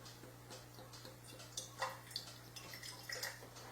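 pH 10 alkaline water is poured into a glass, a quiet trickling splash with a few faint clinks and drips, very soft and close in an otherwise still room.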